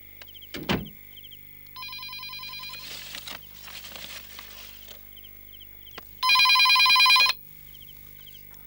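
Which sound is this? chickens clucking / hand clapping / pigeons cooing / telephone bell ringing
telephone bell ringing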